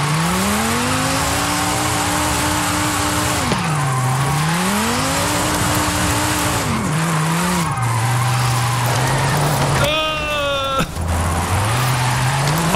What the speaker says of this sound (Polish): nawet lecąc na tej trójce mogę ładnie samochód prowadzić w tym ślizgu